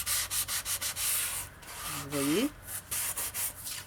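The rough scouring side of a kitchen sponge is rubbed back and forth on paper to clean a paper trimmer blade, a rhythmic, close scratchy swishing in quick strokes, briefly interrupted by a short spoken phrase.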